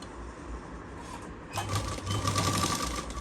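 A sewing machine stitches piping onto a garment neckline. Partway through it starts up loud and close and keeps up a steady, fast mechanical whirring and clatter until the end.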